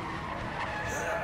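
Car tires skidding and squealing in the video game Resident Evil 7, a steady, loud skid with engine noise running through the whole short stretch, no talk over it.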